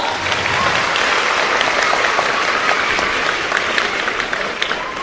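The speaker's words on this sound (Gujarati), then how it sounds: "એમના માટે જોરદાર તાળીઓ પાડો" A school enrollment festival audience gives loud, sustained applause for a visiting legislator, dense clapping filling the room evenly from start to finish.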